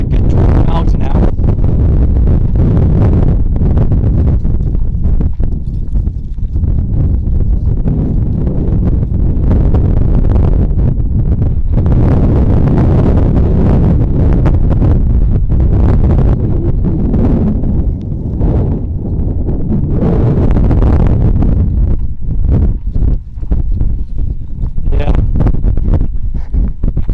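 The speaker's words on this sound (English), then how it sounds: "this wind is terrible" Strong, constant wind of about 20 miles an hour buffets the microphone at an abandoned desert mine, a loud roaring rumble throughout with faint talk mixed underneath.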